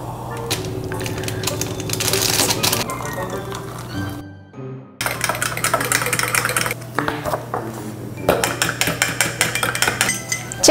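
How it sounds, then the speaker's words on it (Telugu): A spoon stirs salt instead of sugar into a cup of coffee, clinking and scraping against the cup in quick repeated bursts, close by, with background music and other sounds throughout. "చందుకి ఇవాళ కాఫీలో షుగర్కి బదులు సాల్ట్ కలుపుతున్నా."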